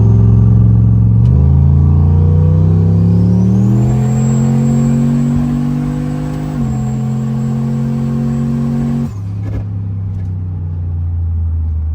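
Turbo LS-swapped Ford Crown Vic pulling hard in second gear from about 30 mph, a loud close engine roar climbing in pitch with a rising turbo whistle, then a sudden shift drop before it pulls again.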